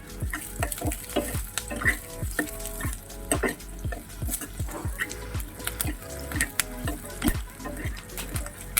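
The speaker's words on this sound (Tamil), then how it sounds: "நம்ம வந்து நல்லா இதை வதக்கி விட்டுருவோம்." Chow chow and dal kootu ingredients are sautéed in a pan, with a steady sizzle beneath repeated scraping strokes of a spoon in a quick, even rhythm, heard close up and with no talking.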